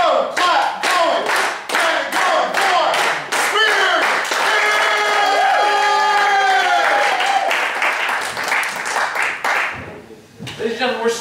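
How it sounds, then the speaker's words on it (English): An improv show audience claps slowly in a steady rhythm that speeds up, individual claps ringing loud and distinct, while voices and cheers rise over the clapping in the middle before it thins out. "Get that slow clap going!"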